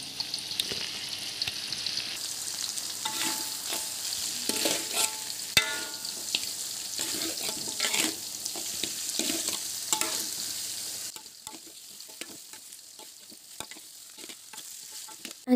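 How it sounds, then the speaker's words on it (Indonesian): Chicken sambal with fried chicken, winged beans and potatoes sizzles steadily in a pan while a utensil stirs and scrapes through it, with soft clinks. The frying is close and continuous, then quieter toward the end. "kita kacau dia sampai dia sebati dan secukup rasa"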